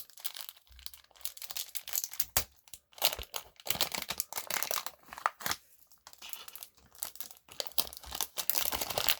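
Packaging of a Qiyi Thunderclap V3M magnetic Rubik's cube being opened, with close, continuous crinkling, crumpling and tearing of plastic and cardboard in irregular bursts.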